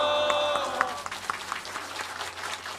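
Wedding guests applaud the congratulatory singers, a dense burst of clapping from a crowd that thins slightly as it goes on, with voices mixed in.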